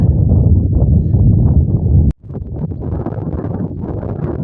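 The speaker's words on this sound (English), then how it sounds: "Probably going to be extremely windy, so I don't know whether you can hear me" Strong wind blows on a hillside walk in the Peak District, buffeting the microphone in loud, gusty low roars that cut out abruptly for a moment midway and then resume.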